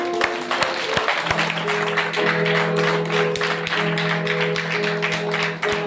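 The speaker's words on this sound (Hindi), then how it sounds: "ताली बजा दो।" A church congregation claps hands together in a steady, dense ovation during a Christmas service, loud and close, with sustained tones from music or voices running beneath the clapping.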